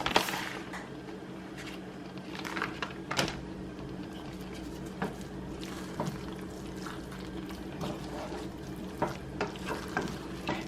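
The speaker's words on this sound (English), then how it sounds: "And just continue to mix it in." Shredded cheese being stirred into Kraft mac and cheese in a pot, with soft wet scraping and squelching strokes that repeat irregularly over a faint steady hiss, close up and with no talking.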